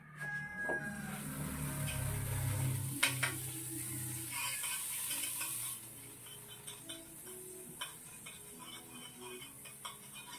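Garlic sautéing in crab fat and margarine for a crab and squash dish, a close hissing fry that drops to a quieter, steady crackle punctuated by utensil clicks.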